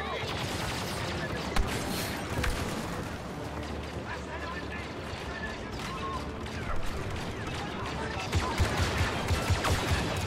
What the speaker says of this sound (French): je tire dans le vide en tout cas